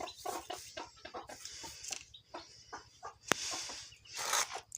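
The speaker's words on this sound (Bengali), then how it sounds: "এদিকে হচ্ছে আর একটা মুরগি বসানো হয়েছে ডিম দিয়ে" A hen brooding on a clutch of eggs makes low, soft clucks in a quick pulsing rhythm, faint and close, with a few louder rustles in between.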